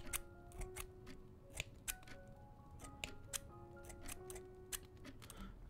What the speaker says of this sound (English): Cut a little bit there.